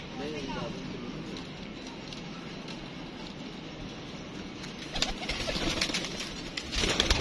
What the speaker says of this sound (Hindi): ये टांका हुआ कबूतर है दोस्तों